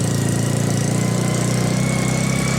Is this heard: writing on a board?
no